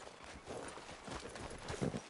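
A horse walks at a steady pace, its hooves clip-clopping in an irregular rhythm at moderate volume, with no talking.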